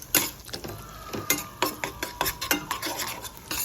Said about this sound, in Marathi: काजू बदामचं कूट सुद्धा मी त्यामध्ये टाकून घेतलेलं आहे आणि हलवायचं आहे ते